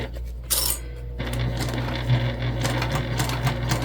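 A sewing machine stitches piping on a crossbody bag, running in a steady close mechanical whir with a low motor hum and rapid needle clatter after a brief pause.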